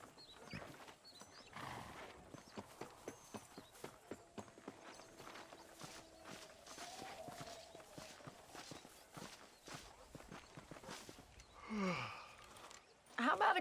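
Horse hooves clip-clop at a steady walking rhythm in the Red Dead Redemption video game, fairly quiet, with a brief snort or whinny near the end and some talk in the background.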